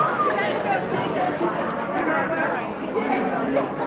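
Crowd chatter fills a room at a Dolton regular board meeting, a steady, fairly close babble of many overlapping voices with no single speaker standing out.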